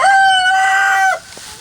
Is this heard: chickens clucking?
yes